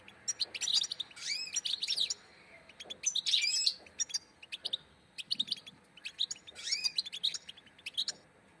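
Bright, rapid chirps and trilling song from goldfinches and canaries, several bursts in quick succession, close and clear with quiet gaps between phrases.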